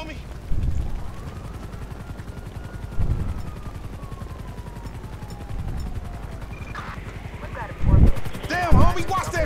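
A helicopter's rapid rotor chop runs throughout a Grand Theft Auto V scene, with occasional thuds and bursts of gunfire and voices talking over it.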